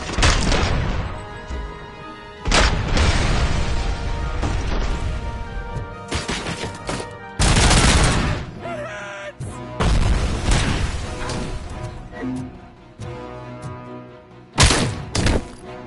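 Loud grenade blasts and bursts of gunfire fill a firefight in the video game RoboCop Rogue City, with heavy booms and crashing impacts repeating across the stretch, close and intense.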